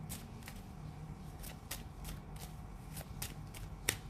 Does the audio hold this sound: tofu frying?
no